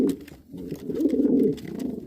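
Homing pigeons coo in a loft, with soft, low throaty burbles and a longer rolling coo in the middle. The birds are close and there are no voices.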